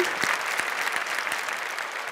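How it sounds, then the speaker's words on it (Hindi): Steady applause from a quiz show audience, a dense wash of clapping with a few sharper claps standing out, continuing evenly throughout. "आपके लिए तालियां आज बजनी चाहिए"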